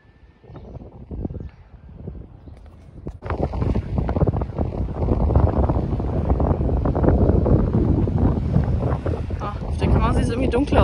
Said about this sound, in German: aber es ist windig heute